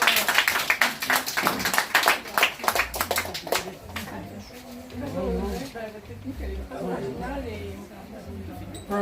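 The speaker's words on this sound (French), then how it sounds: "maintenant on applaudit bien fort" An outdoor crowd in a Guyanese village claps loudly in a quick burst of sharp hand claps that fades after a few seconds, leaving low murmuring voices and background talk.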